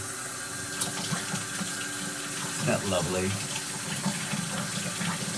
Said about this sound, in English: You filling it up? Can I hear water?